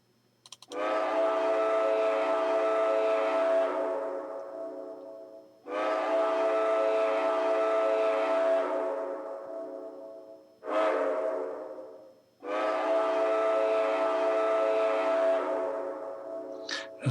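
A train horn blowing in long sustained blasts, three long tones with a brief short toot between, loud and close with nothing else heard.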